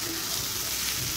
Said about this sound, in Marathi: आता व्यवस्थित मसाला आणि मटकी एकत्रित करून व्यवस्थित असं मी परतून घेत आहे।